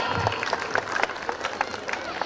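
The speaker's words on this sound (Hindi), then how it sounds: "एक बार जोरदार तालियां कृष्णा के लिए" Audience applause at Ujjwal Model School's 2025 annual function during a kavi sammelan, a dense spell of clapping from a sizeable crowd that fills the hall steadily for a couple of seconds.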